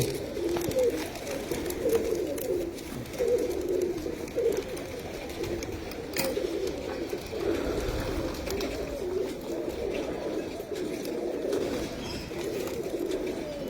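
Pet pigeons coo in a loft, a steady run of soft repeated throaty coos close by, some overlapping, against a quiet background.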